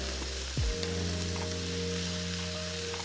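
Pilchard pasta ingredients sizzle steadily in a pan while being stirred, a soft continuous frying hiss at close range with no talking.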